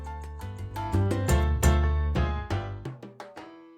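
A music bed playing in Pro Tools, with rhythmic notes and a steady bass line that gradually thin out and drop away toward the end, alone with no talking.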